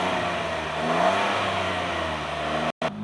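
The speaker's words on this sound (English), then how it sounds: "So this is how the car sounds when you rev it up a little bit." A Maruti Celerio with mild alloy steel exhausts and a BMC air filter revs up, a steady close engine drone rising slightly in pitch, briefly cutting out near the end.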